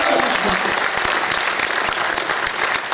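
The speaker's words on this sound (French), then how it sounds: "vous pouvez encore l'applaudir parce que vraiment ça a été une belle année" Loud, dense applause from an audience at an award ceremony, continuous and close for a few seconds.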